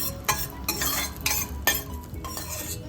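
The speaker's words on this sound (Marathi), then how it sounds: "त्यातच आता आपण मनुका पण थोडेसे तुपात परतून घेऊया।" A spoon stirs and scrapes raisins frying in ghee in a metal pan, giving four or five distinct clinks at an irregular rhythm over a soft, steady sizzle, close and clear with no voices.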